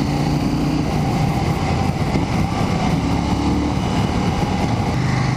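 A KTM 790 Duke with an inline two-cylinder engine rides at steady speed, about 65 in fifth gear, making a continuous, even engine drone with road and wind roar and no talking.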